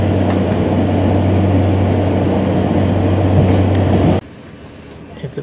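Inside a train running between Llanelli and Port Talbot Parkway, a steady low rumble with a constant hum plays until it cuts off abruptly, leaving quieter background.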